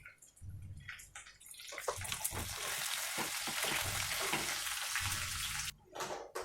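Onions and curry leaves fry hard in a pan for chicken biryani, giving a loud, dense, continuous hiss close by that drops out briefly near the end before resuming.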